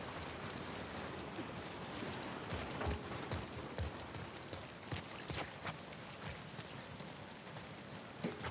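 Steady rain in the video game The Last of Us Part II patters on a surface for several seconds, a dense continuous hiss with scattered louder drops, no voices.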